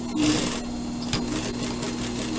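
A sewing machine stitches a surgical scrub cap, its steady mechanical hum running continuously at close range with a brief pause and restart partway through.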